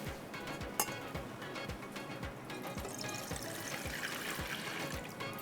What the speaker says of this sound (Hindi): ठीक है, दूध हमने डाल दिया